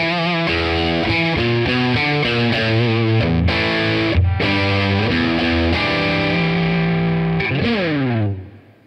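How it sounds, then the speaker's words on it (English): A Fender Jimmy Page Mirror Telecaster electric guitar played through its bridge pickup with distortion, a loud run of bright, overdriven notes and chords that rings out and fades at the end, with no talking. "Let's hear a little bit more from this bridge pickup."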